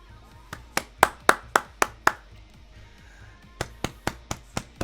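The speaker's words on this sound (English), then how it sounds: "Applause, applause. Bravo, bravo." Scattered hand claps at a fashion show, sharp and distinct, in a quick run of about eight claps, then a pause and another short burst of claps.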